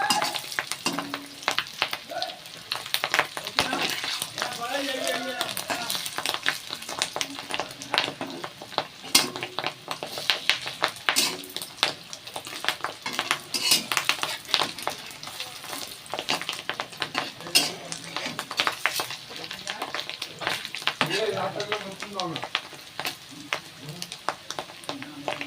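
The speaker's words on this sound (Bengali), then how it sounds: "দিয়ে আমি বড়াগুলো ভাজবো।" Fish roe fritters fry in a pan over low heat, a steady crackling sizzle with stirring clatter running throughout, while a voice speaks intermittently over it.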